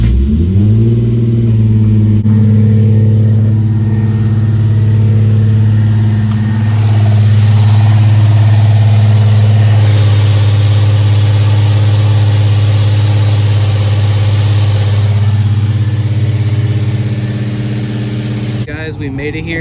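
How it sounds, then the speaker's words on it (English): A Nissan 350Z engine turns over and settles into a loud, steady idle close by. The rumble swells slightly midway and runs for most of the clip with no break. "Car starts."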